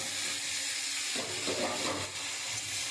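Yard-long beans with spices sizzle steadily in a pan as they are sautéed, a continuous close hiss with soft stirring scrapes and no talking.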